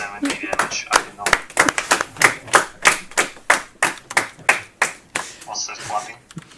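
Sharp hand claps ring out one after another in a fairly steady beat, close and crisp, with a bit of talking mixed in between.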